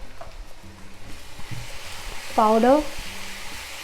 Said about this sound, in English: So let's fry this onion for 3 to 4 minutes.